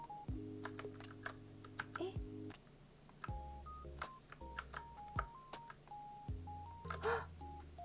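Typing on a computer keyboard during a live chat stream. Quick, irregular key clicks run throughout, mixed with steady electronic tones and beeps at moderate loudness, and a person speaks over part of it.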